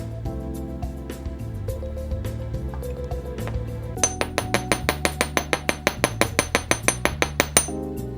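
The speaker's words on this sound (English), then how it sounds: "my chasing hammer, I'm going to hammer it with a flat side" A chasing hammer's flat side strikes metal wire in a steady run of sharp, ringing taps that grow louder and quicker, with soft taps and shuffling before them.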